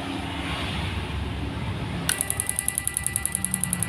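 A PAC fish electroshocker, wired in parallel with a capacitor to a fish net, switches on after a low steady hum, then gives a fast, regular, sharp pulsing tick that repeats evenly and close by.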